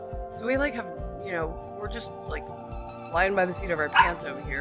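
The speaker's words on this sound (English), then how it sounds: "sorry about the barking" A pet dog barks and yips at home in short bursts, intermittently under and between ongoing conversational speech from a nearby woman.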